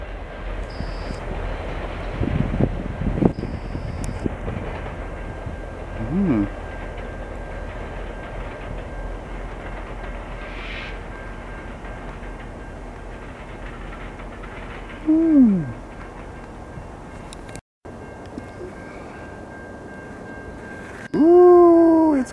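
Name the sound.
VIA Rail train passing with dual engine power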